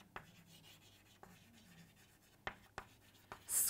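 Chalk or pen writing out a trigonometry equation during a maths lesson: quiet, faint scratching strokes with a few sharper taps, close by and without talk.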